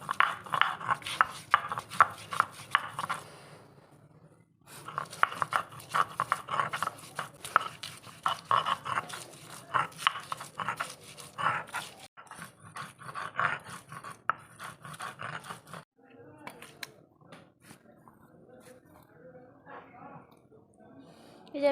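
Ginger and garlic cloves ground together by hand for a crab curry, giving rhythmic scraping and pounding strokes in long steady runs with a few short pauses, fairly close.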